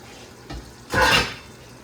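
A plate set down in a kitchen sink during home cooking, a short soft knock followed by a louder clattering, splashy rattle of dishware that fades within half a second, no talking.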